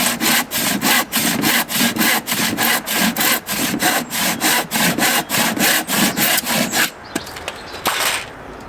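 Pallet wood being cut with a hand saw at close range, giving loud, rhythmic back-and-forth strokes that stop near the end.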